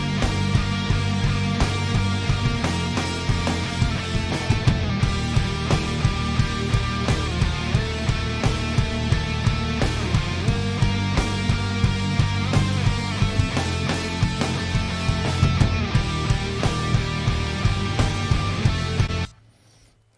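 Drum samples from the Rock Warehouse kit, played in a dense full mix with steady kick and snare hits and toms, loud and continuous for about nineteen seconds before cutting off abruptly.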